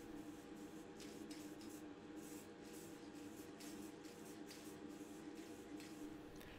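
A nearly empty spray can of Vallejo white hobby primer sputters onto a diecast Volkswagen T2 ambulance body, a faint, steady hiss broken by irregular short bursts as the can struggles.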